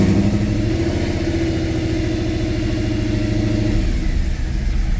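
A Mercedes E63 AMG engine, misfiring, is held at a steady 1500-2000 RPM, giving a loud, close, even drone with a rough pulsing texture that eases slightly near the end.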